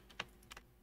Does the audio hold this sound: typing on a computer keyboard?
yes